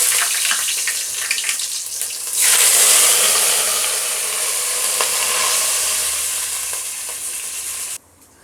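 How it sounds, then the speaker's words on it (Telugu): Water pours into a pot of fried biryani spices and bay leaves for mutton dum biryani, setting off a loud, continuous hiss and sizzle with faint stirring and watery splashing throughout. "ఇప్పుడు మనం ఇందులోకి వాటర్ యాడ్ చేసుకోవాలి."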